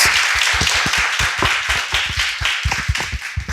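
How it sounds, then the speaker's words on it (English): A small group applauding, with sharp individual claps clearly audible in a loose, uneven rhythm, close by and steady throughout. "let's clap it up for both panels"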